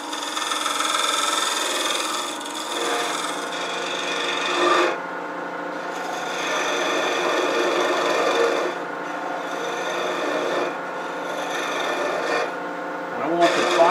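A skew chisel cuts wood on a turning lathe for a clamshell box, a loud, continuous rasping shear over the motor's steady hum, swelling and easing in passes with brief breaks and no talking.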